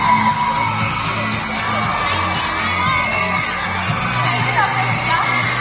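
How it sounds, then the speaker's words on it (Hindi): A noisy party crowd of many overlapping voices with shouts and cheers, loud and continuous throughout, with steady background music underneath. "इतनी भीड़ और इतना शोर"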